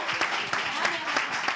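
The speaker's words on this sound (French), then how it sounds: "Applaudissez notre candidate." A crowd gives a short burst of applause for a candidate, the clapping soft and somewhat distant, running continuously with a few sharper peaks.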